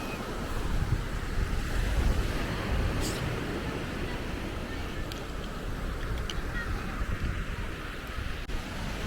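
Sea waves wash ashore at Poldhu Cove beach in Cornwall, a steady broadband roar of surf with wind buffeting the microphone throughout, continuous and fairly loud with no talk.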